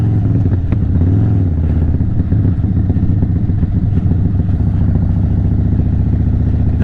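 An Indian Chief motorcycle engine running steadily while riding up a small hill, a loud, continuous low throbbing rumble with wind noise and no pauses.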